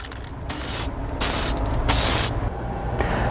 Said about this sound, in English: We applied several thin coats, 3 or 4 coats of the silicone spray